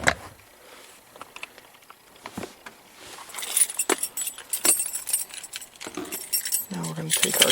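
Car keys for a C5 Corvette jangling close up, starting faint and growing into a steady metallic shuffling and clinking, with a person speaking at the end.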